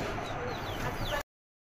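Chickens being fed on a rooftop garden, soft clucking and faint chirpy calls over a steady broadband background, continuous for about a second before cutting off.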